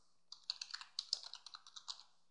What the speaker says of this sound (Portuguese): Vou só digitar os meus dados.